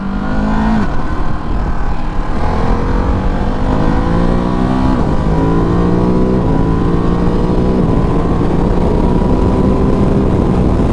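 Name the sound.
2023 Ducati DesertX motorcycle accelerating onto highway in sport mode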